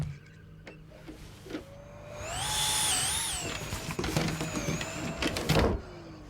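A vacuum cleaner whines up to a loud, rising motor tone with scattered clicks and knocks around it, then the pitch sags downward as it winds off near the end.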